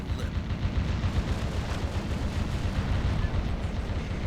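Dense, continuous gunfire and heavy blasts from the video game Metal Wolf Chaos roll on without a break, loud and booming throughout.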